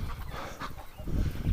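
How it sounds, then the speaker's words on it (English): Ducks honking and squawking in a winter barnyard during a snowstorm, a jumble of harsh nasal calls that swell louder toward the end. "Look at crazy ducks."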